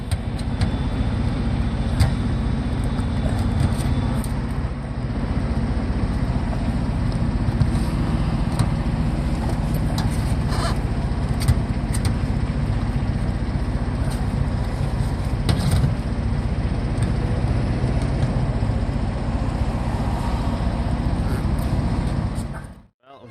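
An old muscle car rolls along the highway on a long winter road trip from New York to Nebraska, its loose front lip rubbing the tire; a steady, loud engine and road drone fills the cabin continuously.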